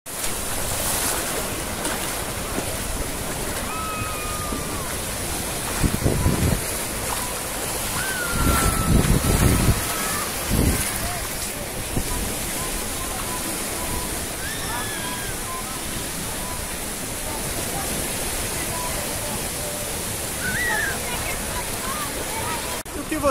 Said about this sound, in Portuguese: as ondas são bem calminhas, bem tranquilas